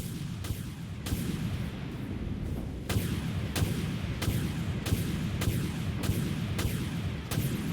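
Weapons launch repeatedly aboard a ship in the space combat game Dreadnought, a rapid series of sharp thumping blasts at a steady rhythm, about two per second, over a dense rumbling din.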